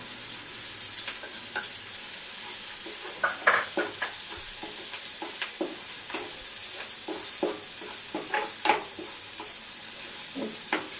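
Cumin, garam masala and mustard powder sizzling in oil for a village-style tomato chicken pickle, a steady hiss overlaid with frequent sharp clicks and scrapes of stirring, close and moderately loud.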